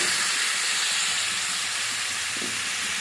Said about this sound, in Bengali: এবারে পেঁপে সেদ্ধ যে জলটা এইটা দিয়ে দেবো